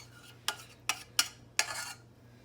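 A metal baking pan set onto a stove top makes four distinct clanks, spaced irregularly over a couple of seconds, with a faint hum beneath and no talking.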